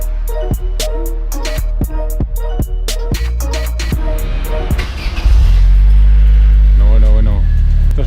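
An Opel Astra fitted with a modified homologated exhaust, heard as a series of regular sharp engine blips before the engine settles into a loud, deep steady drone with a rise near the end.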